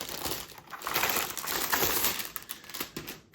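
Plastic foil wrapping being pulled off a Razer BlackWidow V4 gaming keyboard during unboxing, giving a continuous close crinkling and rustling that swells and fades over a few seconds, with no talking.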